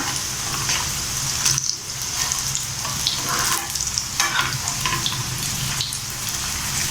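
Bun parotta fries on a pan with a dense, continuous sizzle at moderate loudness, occasional bursts and a brief dip, no talking.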